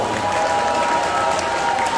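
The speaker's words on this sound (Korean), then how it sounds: "긴 시간 수고하신 제가 목사님께 감사의 박수를 보내주시기 바랍니다" Audience applause at a press conference by a pastor on the 5.18 issue, a steady dense patter of clapping from the room filling the whole stretch, with crowd noise under it.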